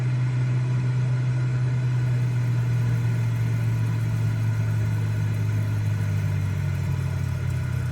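Single-engine piston motor of a Cessna 206H in a flight simulator game, droning steadily with a constant low hum and even tone throughout, no talk over it.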